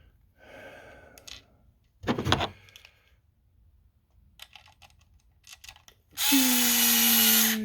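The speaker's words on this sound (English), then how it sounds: "2 screws through the bottoms of the dovetail" Power drill driving screws through the bottom of a wooden dovetail joint, with scattered clicks and handling knocks before one loud, close, sustained whirring run near the end.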